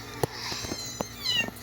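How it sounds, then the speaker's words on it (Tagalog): Several cats meowing close by, thin rising and falling cries overlapping through the moment, with light taps and rustles underneath. "Ito yung mga pusa, oh."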